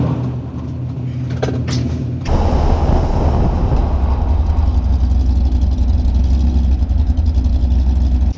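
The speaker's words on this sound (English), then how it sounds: "I'm going 50 miles an hour right now and we're just gonna slam on the brakes." A 2019 Chevrolet Silverado with a big brake conversion stops hard from 50 mph, a loud steady rumble of road and drivetrain noise that surges abruptly and holds a dense low roar through the stop, without tire chirp.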